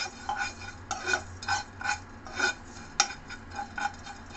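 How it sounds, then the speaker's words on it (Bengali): Spices dry-roasting in a pan for aam panna, heard as repeated scraping stirs against metal, about two per second, with faint sizzle beneath, close and moderately loud with no talk. "ভেজে নেবো অল্প করে।"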